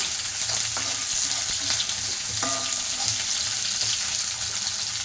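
Onions sizzle and crackle steadily in a hot pan for a home breakfast, with occasional scrapes and clinks of a utensil stirring them, close and constant with no talk.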